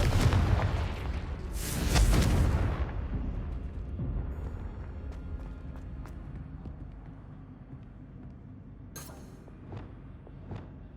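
A Confringo explosive spell cast in Hogwarts Legacy bursts with a loud boom that rumbles and fades over several seconds, followed by scattered faint pops and crackles.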